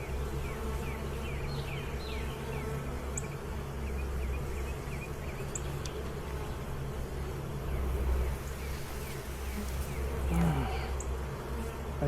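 Honeybees buzzing steadily during a hive inspection on the Mississippi coast, a continuous close hum with occasional faint clicks and handling noises.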